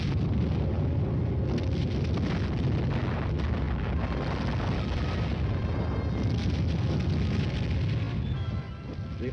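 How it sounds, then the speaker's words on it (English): An artillery barrage laying down supporting non-atomic fire: dense, continuous rumbling booms and bursts that blur into one sustained roar, loud throughout with no clear gaps between shots. "the supporting elements lay down a curtain of non-atomic fire"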